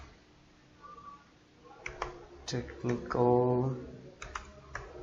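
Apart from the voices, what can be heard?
typing text on a computer keyboard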